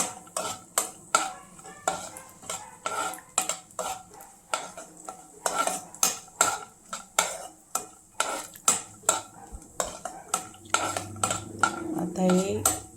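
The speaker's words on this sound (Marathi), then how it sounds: "आता थोडंसं त्याच्यामध्ये परतवून घ्यायचं।" Dry fruits and raisins roasting in ghee in a pan over low heat, a spoon scraping and clinking against the metal in a steady rapid rhythm with a faint sizzle toward the end.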